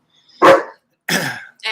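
A dog in a hotel room barks sharply, reacting to another dog out in the hallway: two loud, close barks about half a second apart, then the start of a third, with silence between them.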